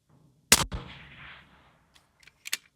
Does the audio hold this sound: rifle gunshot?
yes